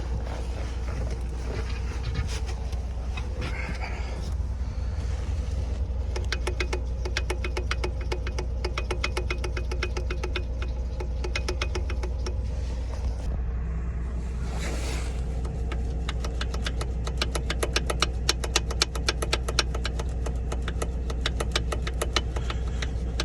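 A Detroit DD15 truck engine with a knock runs steadily up close. A continuous mechanical drone carries fast, regular ticking and knocking throughout.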